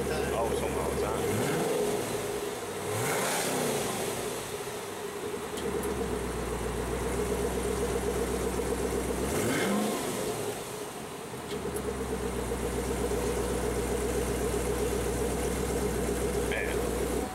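A 2014 Chevrolet Camaro ZL1 with an always-open exhaust starts up, then settles into a loud, rumbling idle broken by two sharp revs. People talk over the engine.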